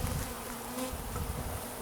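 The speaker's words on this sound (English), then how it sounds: "what you got to do is you got to shake all these bees down, get them loose" Honeybees shaken out of a package into a hive make a dense, steady buzzing swarm drone, close and continuous with no talk.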